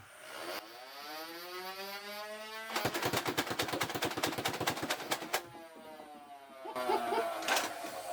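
A Nerf Elite 2.0 Double Punch blaster fires foam darts in a fast, even burst of about twenty sharp snaps over roughly two and a half seconds, loud and close, with quieter mechanical whirring before and after.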